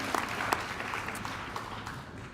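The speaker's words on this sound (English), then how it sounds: "Big round of applause for those ladies." An audience at a high school senior awards ceremony applauds, a continuous moderate patter of many hands in a hall with a few louder claps near the start.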